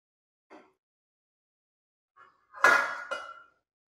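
Metal lid set down over a pan of mushroom and babycorn tava bhaji: a faint tap, then a clear clanging clink with a short ringing tail and a second lighter knock, in an otherwise quiet kitchen.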